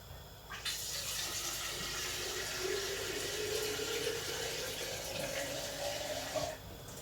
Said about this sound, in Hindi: और इसके अंदर हम पानी और ऐड करते हैं।